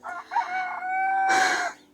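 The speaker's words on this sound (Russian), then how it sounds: "Но эти ребята мне сегодня мешают весь день своим кукареканьем" A rooster crows on a farm, a drawn-out cock-a-doodle-doo with a louder, rougher final burst, heard clearly and fairly close with no talk over it.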